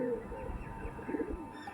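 Pigeons of an Arshad and Dashu line coo softly in a loft, a few low rolling calls rising briefly over a steady background hum.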